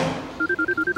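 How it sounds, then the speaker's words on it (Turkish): A phone rings with a rapid electronic trill of short, evenly spaced beeps after a brief muffled start, clear and steady. "Telefonum çalıyor."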